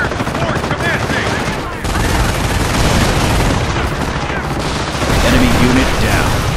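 Sustained barrage of gunfire and heavy booms from fire support in the World War II strategy game Company of Heroes, a dense, loud, continuous battlefield roar with voices mixed in.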